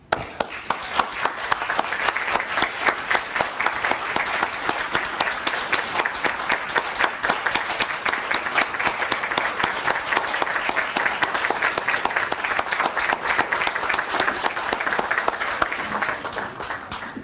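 A meeting audience gives sustained applause for Jeff, dense continuous clapping from many hands holding at an even level for well over fifteen seconds before trailing off.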